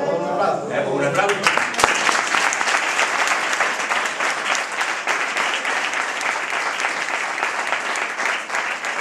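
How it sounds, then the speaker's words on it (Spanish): Loud, dense applause from a large crowd at a local political memorial event in Badolatosa, Spain, held steady and close for several seconds after a voice at the start. "Un aplauso."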